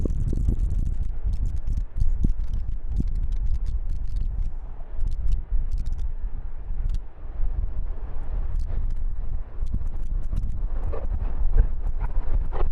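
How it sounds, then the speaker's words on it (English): Strong gusty wind at Amsterdam Schiphol airport during runway 27 arrivals roars and buffets the microphone, a loud continuous rumble with rattling bursts throughout and no speech. "the wind is definitely not yet subsiding"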